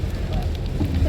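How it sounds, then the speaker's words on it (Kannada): Heavy rain just beginning outdoors, a brief, dense and fairly loud hiss of falling drops with no speech. "ಫುಲ್ಲು ಮಳೆ ಸ್ಟಾರ್ಟ್ ಆಯಿತು"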